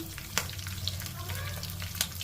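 Asafoetida sizzles in hot oil for a tempering during traditional Ugadi home cooking, a steady close frying hiss with a few sharp clicks and clatters over it.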